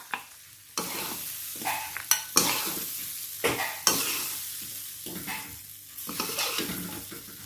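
Shrimp stir-frying with snow peas in a pan, steady sizzle broken by repeated scraping strokes and tossing bursts of a spatula, close and fairly loud with no talking.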